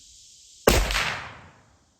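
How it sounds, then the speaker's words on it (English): A single loud muzzleloader rifle shot fired at a target 50 yards away, a sharp crack followed by a long, fading echo, with no talking around it. "this is the first shot, middle target at 50 yards"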